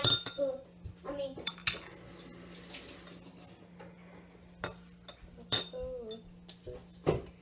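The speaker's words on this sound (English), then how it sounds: "I gotta wash my spoon." Spoon being washed at a kitchen sink: scattered metallic clinks and taps of cutlery against dishes with a faint trickle of water, close and intermittent, with brief voices nearby.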